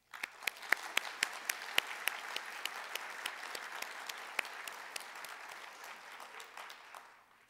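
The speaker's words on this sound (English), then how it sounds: "I'd like to have a round of applause." A lecture audience gives a round of applause: steady, moderately faint clapping with sharp individual claps standing out, fading toward the end.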